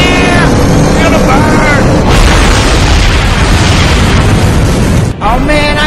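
Rockets fire at full thrust in Tales from the Borderlands, a loud, continuous roaring blast with voices and whistling tones briefly audible over it.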